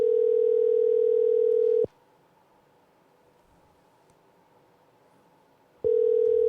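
A telephone ringback on a call to a coworker named Rick, waiting for him to pick up: a steady tone rings for about two seconds, falls silent for four, then starts ringing again, clear and alone.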